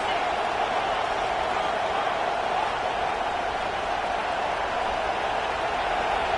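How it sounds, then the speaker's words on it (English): College football stadium crowd roaring on third and long, a dense continuous wash of cheering and noise that holds steady and loud without letup. "Here comes the crowd trying to make it tough on 3rd and long."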